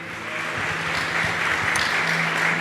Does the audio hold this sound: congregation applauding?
yes